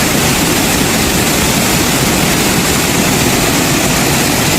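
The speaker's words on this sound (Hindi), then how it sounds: "बहुत तेज है पानी का, बहुत तेज है" Fast, powerful stream water rushes loudly and steadily at a waterfall in Uttarakhand, a dense unbroken roar close by that fills the whole clip without pause.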